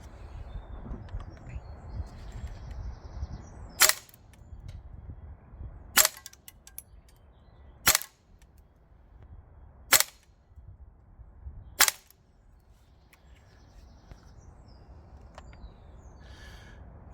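A Well Pro AK12 gas blowback airsoft rifle running green gas fires 2.5 gram BBs as five sharp, loud single shots spaced about two seconds apart over a faint, quiet background.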